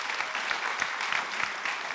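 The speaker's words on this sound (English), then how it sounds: "Please let us give a hand of applause to them." Applause from the audience at an LPN nursing class graduation ceremony, an even, moderately loud patter of many clapping hands heard from a little distance, with no voices over it.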